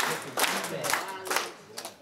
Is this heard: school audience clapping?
yes